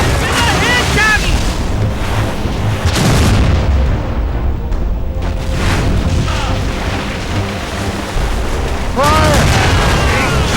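Naval broadside cannon fire during a sea battle in the video game Assassin's Creed Rogue, loud booming blasts in bursts over crashing waves and shouting crew voices.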